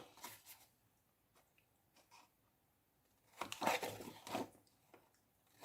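Scissors cut away corners of a scrapbook paper page in a quiet room: faint snips and rustles, then a louder burst of crinkly cutting and paper handling toward the end.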